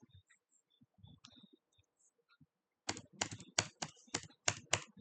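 Typing on a computer keyboard while entering a line of Django template code, a rapid run of crisp, close key clicks in the second half after some faint, scattered taps and small handling noises.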